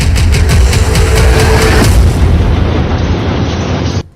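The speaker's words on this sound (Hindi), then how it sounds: "धमाके पर धमाके हो रहे हैं।" Explosions in Gaza war footage: loud, deep booms roll into a continuous rumbling blast that stays heavy for several seconds, then cuts off abruptly.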